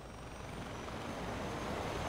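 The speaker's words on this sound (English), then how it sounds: "Get to the chopper!" A helicopter in Far Cry 4 gives a steady, even engine and rotor drone, moderately loud and unbroken for the whole moment.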